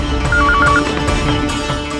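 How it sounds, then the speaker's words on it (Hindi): A telephone rings in short electronic trills against a dense, loud background of music and ambience in a Hindi crime drama, heard just before a call connects. "चलो इंस्पेक्टर चौहान को फोन करते हैं।"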